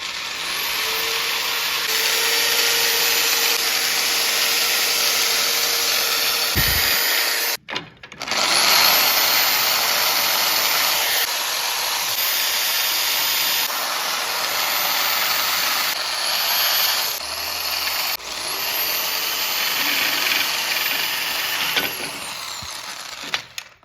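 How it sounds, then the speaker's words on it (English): A powered wire brush scours metal surfaces on a Jammer go-kart's wheel and brake setup, giving a loud, steady whirring grind that runs almost continuously, broken by a brief pause and a few small dips in pitch as it bears on the work. "so we cleaned up these surfaces. We use these wire brushes."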